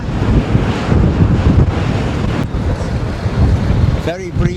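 Strong wind buffets the microphone at sea off the French coast, a steady roaring rush with wave wash beneath, continuous and loud throughout.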